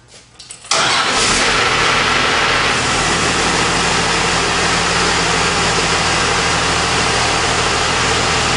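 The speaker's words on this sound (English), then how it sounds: "you're going to want to start the engine and lower the front of the trailer down" A large truck engine cranks and catches, then settles into a loud, steady running rumble close by, while hitched to a trailer.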